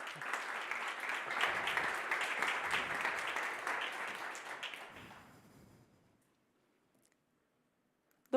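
Warm applause from a demo day audience rises and holds for about five seconds, then fades out into near silence.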